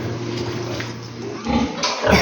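Piglets on a pig farm grunt and squeal close by over steady background hum, with a louder burst of squeals toward the end.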